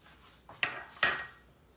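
Two sharp metallic clanks of a frying pan set down on a stovetop, a little apart, with some quieter scraping between them.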